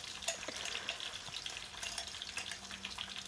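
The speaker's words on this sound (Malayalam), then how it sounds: "എന്നിട്ട് അതിനെ നന്നായിട്ടൊന്ന് മൂപ്പിച്ചെടുക്കുക" Crushed ginger, garlic and black pepper frying in oil with curry leaves in a pan, a faint, even crackling sizzle with small scattered pops, heard alone without talk.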